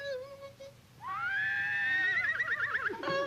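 A horse whinnies loudly nearby, a long rising neigh that breaks into a shaky, quavering finish.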